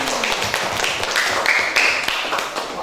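A school class at SMAN 1 Rajabasa claps after a group presentation, a sustained patter of many hands in a room, with brief high squeaks and faint voices mixed in.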